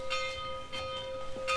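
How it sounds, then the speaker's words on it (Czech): A distant church bell from a nearby village rings the evening Angelus, with several sustained tolls ringing out over a faint background hiss and no talk. "Klekání. To bude zřejmě z nějaký nedaleký vesnice."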